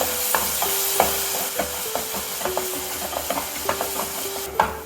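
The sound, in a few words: masala being stirred and sautéed in pan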